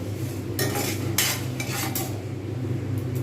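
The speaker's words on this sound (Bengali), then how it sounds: "যেমনভাবে চাল ভাজে ঠিক সেইভাবে চাল ভেজে নিতে হয় এরকমভাবে আমি ভাজতে থাকবো" Rice is dry-fried over medium heat in a pan for laddu and stirred, with a scraping utensil sweeping in a few bursts over a soft, continuous sizzle, close and without speech.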